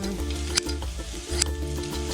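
Sun-dried tomatoes sizzling in a hot pan with bacon, onion and garlic, a steady frying hiss with a couple of sharp stirring clatters, close up and without talk.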